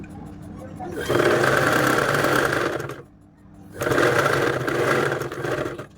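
A sewing machine stitches a half-inch seam on a child's frock, whirring in two steady bursts with a brief quiet break between them.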